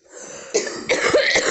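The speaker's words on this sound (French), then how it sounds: "Désolé, je tousse beaucoup," A person coughs twice in quick succession, close and sharp, with a short throat-clearing rasp and no talking.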